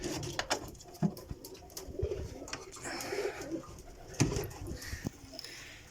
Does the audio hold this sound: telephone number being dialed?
no